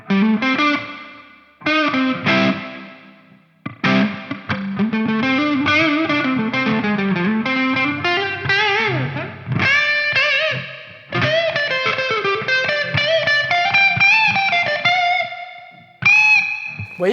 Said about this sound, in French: On va essayer quand même la Spring Reverb pour voir ce que ça donne.